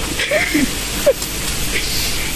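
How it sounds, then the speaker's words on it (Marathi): Rain falls steadily at a petrol pump, a broad continuous hiss with soft spattering throughout, with brief bits of nearby voice over it. "हा पाऊस आहे की मस्करी आहे यार"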